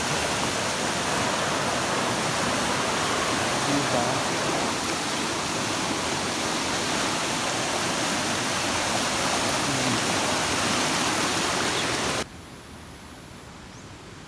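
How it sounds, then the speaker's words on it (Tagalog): Big waves roaring continuously in a dense, wash-like rush of water that holds steady, then drops abruptly to a quieter hiss near the end; a voice says a brief word over it. "Sobrang laki talaga yung alon."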